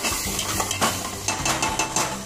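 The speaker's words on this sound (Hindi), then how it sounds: "प्याज को अच्छे से मिला रहे हैं, जब तक ये भून जाए" Onions being stirred in a frying pan for a chicken masala, a spoon scraping and clinking against the pan in repeated strokes over a steady sizzle, close and clear with no talking.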